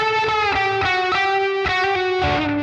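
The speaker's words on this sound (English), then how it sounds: "what the solo sound is, it's the comp, the Timmy, the 999 echo, and obviously the amp and cab." Electric guitar solo tone through a Sonicake Matribox II Pro running compressor, Timmy overdrive and 999 echo into amp and cab simulation: loud sustained, singing notes with picked attacks, steady and alone.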